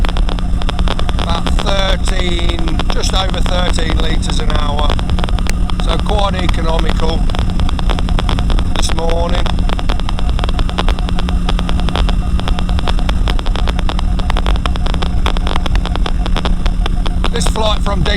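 Flexwing microlight engine droning steadily in cruise flight at high revs, loud and constant with wind rush, a pilot's voice talking over it through an intercom.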